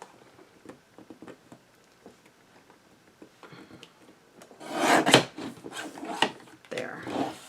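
Recycled paper card edge being trimmed: quiet scattered rustles and taps give way to louder scraping, cutting and rubbing sounds close by in the second half.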